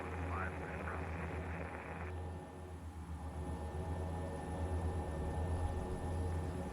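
Carenado SAAB 340 twin turboprop engines idling in a flight simulator, a steady, loud whirring drone with a low throb that holds throughout, a high whine dropping away partway through.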